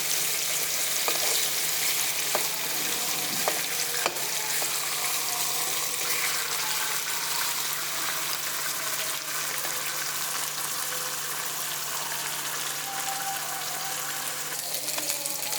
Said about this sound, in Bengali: মাছটা ফ্রাই হয়ে গেছে